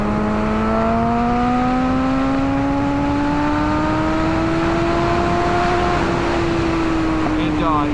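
A 2007 Kawasaki ZX6R sport bike engine under way, its tone climbing steadily as the revs build and then holding high, with wind rush underneath and a voice talking over it.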